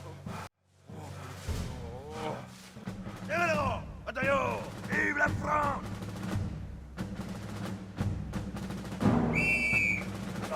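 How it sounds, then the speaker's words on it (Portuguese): A shrill, steady whistle blast sounds near the end, following a stretch of talking voices over rumbling combat noise in the video game Corações Valentes. "Ó, o apito aí."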